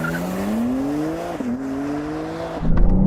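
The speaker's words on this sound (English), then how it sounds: "Left foot brake, floor the throttle." A BMW M4 or Porsche 911 engine revs hard and climbs in pitch in a full-throttle launch, briefly shifting, then a rumbling surge as the car pulls away.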